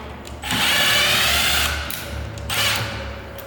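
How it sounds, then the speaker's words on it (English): A power drill backing screws out of a sliding door panel, whirring loudly in two sustained bursts separated by a short pause, close up. "we're going to remove those screws using a screwdriver or a drill"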